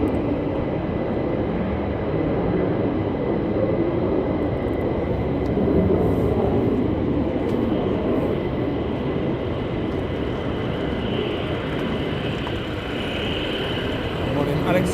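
Fighter jets departing RAF Lakenheath, a broad sustained engine roar heard from a distance that swells slightly midway and holds steady as a low rumbling wash.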